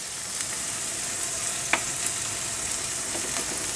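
Ground spices sizzling in hot oil for a spicy ridged luffa curry, a steady crackling fry with a few brief pops and stirring scrapes, close and continuous with no voices.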